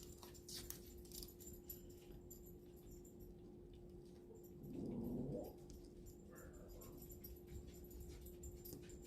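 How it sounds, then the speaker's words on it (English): Dogs whining indoors, a faint, brief whimpering burst around the middle of a quiet room, with a softer whine shortly after; no talking. "I don't know why the dogs are whining and carrying on"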